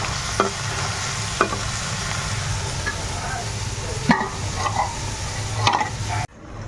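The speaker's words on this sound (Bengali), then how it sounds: "আর এখানে এই যে উচ্ছে ভাজাটা বসাবো" Bitter gourd fries in a pan with a continuous crackling sizzle, stirred with a few sharp spatula scrapes and knocks before it cuts off near the end.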